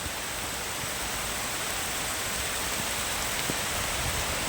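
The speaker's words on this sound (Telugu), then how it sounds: "అయ్యయ్యో ఏం వర్షం రా నాయన" Steady, dense heavy rain pours down with a constant hiss and occasional louder drops hitting nearby surfaces.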